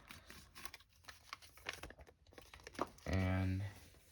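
Paper being folded, creased and tucked while making a paper jet: soft close crinkles and rustles in quick irregular bursts, ending in a brief louder humming tone.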